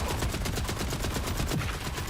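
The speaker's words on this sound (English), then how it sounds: "This assault rifle seems pretty legit." An assault rifle firing in a video game: a rapid, evenly spaced burst of automatic gunfire, about a dozen shots a second, loud and continuous for a couple of seconds.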